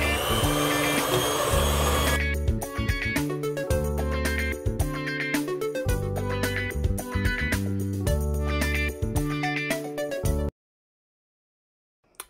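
An electric mixer whirs loudly and close while blending oil and caster sugar for ginger nut cookie dough, its motor buzzing steadily with uneven knocks and rattles, then cutting off abruptly into silence near the end.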